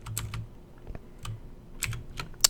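Shift and arrow keys on a computer keyboard are pressed in a few quick, light clusters of clicks, close and quiet, with no talking.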